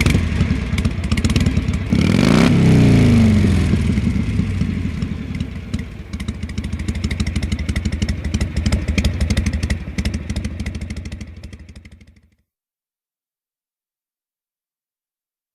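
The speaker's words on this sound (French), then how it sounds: "C'est une moto qui pétarade." A motorcycle engine backfires and sputters loudly and close by, chugging with a sharp surge near the start, running steadily for about twelve seconds before cutting off into silence.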